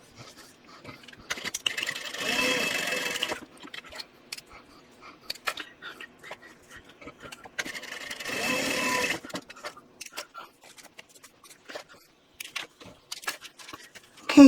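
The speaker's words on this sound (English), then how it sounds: "Now I'm going to top stitch both folded sides" A sewing machine topstitches the folded edges of fabric with a 1/8 inch seam allowance, running in two clear whirring bursts of a second or two each, with quiet clicks and handling noises between them and no talk.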